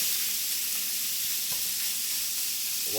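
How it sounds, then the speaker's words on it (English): Steady, bright sizzling of ground bison meat browning in a hot pan for chili, a continuous frying hiss with faint stirring scrapes. "We're going to brown this for a little bit."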